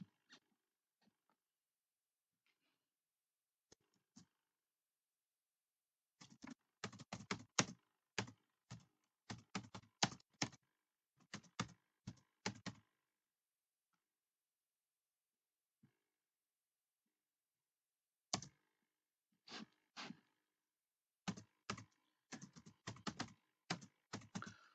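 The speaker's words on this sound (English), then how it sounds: "Follow what I am typing" Computer keyboard typing in a quiet room: scattered single keystrokes, then quick bursts of clicking clustered in groups with pauses between, close and crisp with no talking.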